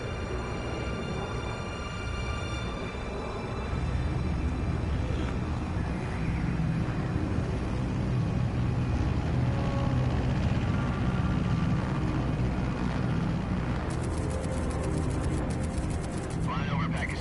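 Steady, loud aircraft drone in Metal Gear Solid Delta: Snake Eater, with a thick low rumble and broadband engine wash sustained throughout, as if heard from inside a plane at 30,000 feet.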